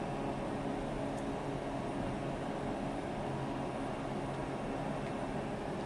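An aircraft engine roars at full throttle in a flight video game: a constant, dense, loud drone that holds unchanged from start to finish, with no talking.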